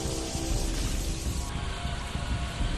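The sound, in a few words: heavy rain falling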